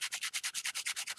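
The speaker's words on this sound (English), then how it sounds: "I've got my sandpaper. This is my P600." Light P600 grit sandpaper rubs back and forth over a painted surface in about a dozen quick, even strokes, close and soft, with no voices.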